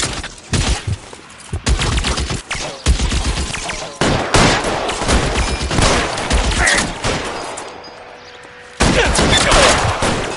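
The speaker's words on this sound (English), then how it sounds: "Open fire!" Rapid, loud bursts of gunfire from the video game L.A. Noire, with dense machine-gun volleys and shots in irregular clusters, broken by short pauses and ending with another heavy barrage.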